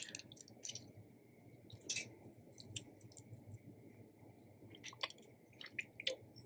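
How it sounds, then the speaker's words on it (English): Someone chews a leaf of an Italian-style stuffed artichoke with peas, giving soft, wet squishing and clicking mouth sounds in irregular bursts, close up and quiet with no talking. "I have to taste one of the leaves here for you"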